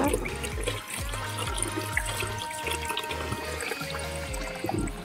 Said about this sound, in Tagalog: Hugasan natin ng paulit-ulit para matanggal yung ice.